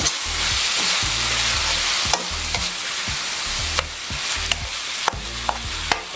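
Sliced pork and vegetables in a cornstarch-thickened sauce sizzle steadily in a hot pan, with an utensil scraping and stirring now and then and a few sharp clicks, close up and without talk.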